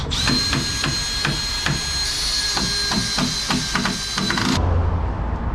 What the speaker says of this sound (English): Let's see how much more height I can get out of this garage door.